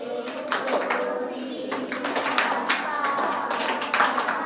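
Young children clapping a rhythmic beat cycle together in a lesson, a steady run of sharp hand claps mixed with soft voices.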